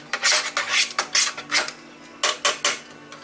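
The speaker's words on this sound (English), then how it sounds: "Get all that stirred up in there." A spoon scrapes and stirs Tenda-Bake cornbread batter around a bowl in a quick series of close, rhythmic strokes, about a dozen distinct scraping swishes with brief gaps between them, with no talking.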